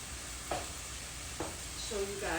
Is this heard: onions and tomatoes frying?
yes